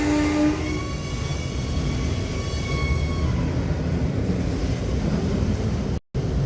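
A train brakes at night on a ride to Hapeville, Georgia near Atlanta, a loud steady rumble and hiss with faint high squealing tones fading across it, ending in a brief dropout.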